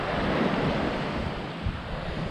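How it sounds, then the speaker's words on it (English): Wind blows by a river in gusty, rumbling buffets across the microphone, a rushing broadband roar with low thumps, and no voices. "It's a little windy, people."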